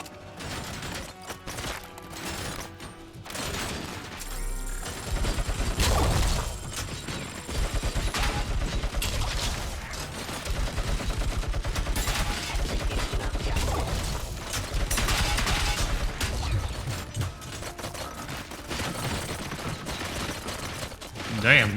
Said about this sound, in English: these guys are shooting the hell